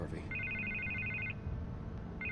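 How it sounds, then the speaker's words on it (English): A telephone rings in Telltale's Batman video game with a repeated electronic trill, one long burst, a short pause, then the start of another, heard over a low background murmur. "I can't get the phone to stop ringing."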